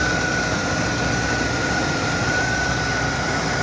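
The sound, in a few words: BMW car engine running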